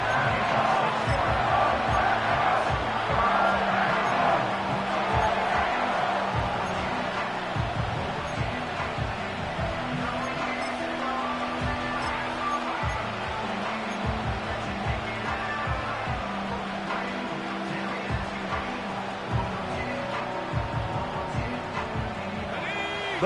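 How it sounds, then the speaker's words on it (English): Stadium crowd noise from the Madden 25 football video game makes a steady, dense roar that runs unbroken throughout, with faint game sounds layered underneath. "The crowd making their presence felt."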